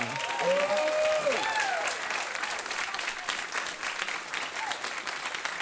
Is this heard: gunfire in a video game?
no